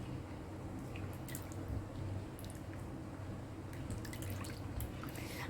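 Rose milk sarbath with crushed cashews and almonds being stirred, giving a steady wet swirling and soft liquid churning with faint clinks throughout, close by and moderately quiet.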